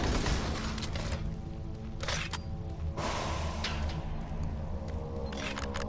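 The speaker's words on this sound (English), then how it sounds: "probably a little bit more than one clip with the machine gun" Machine gun fire in the Doom 3 game comes as a few sharp, fairly quiet bursts of rapid shots over a dense, steady background of game ambience, with no talking.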